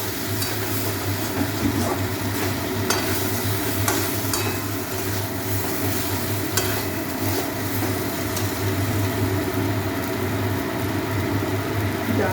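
Cauliflower and spices fry with salt in a hot pan, a steady sizzle broken by frequent scrapes and clinks as they are stirred, close and continuous.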